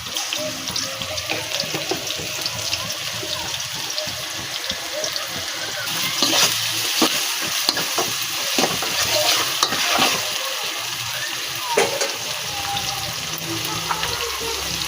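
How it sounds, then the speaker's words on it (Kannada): Onions sauté in a pan for a prawn gravy, giving a steady, close sizzle and crackle with occasional scraping stirs throughout. "ಆನಿಯನ್ ಹಾಕಿ ಚೆನ್ನಾಗಿ ಸ್ವಲ್ಪ ಬಾಡಿಸ್ಕೊಳ್ಳೋಣ"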